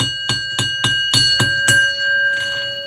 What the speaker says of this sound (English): Doofus, I said ring the bell, you doofus son-in-law.